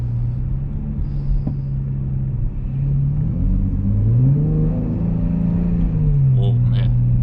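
A car fitted with a Pedal Commander in Sport Plus mode accelerates uphill, its engine drone climbing in pitch midway and then settling, heard from inside the cabin as a steady rumble.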